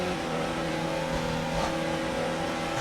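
Formula 1 car engine in the racing game F1 2019 at the German Grand Prix, a steady, loud, buzzing drone with strong harmonics that swells slightly as the car pulls away, continuous for a few seconds.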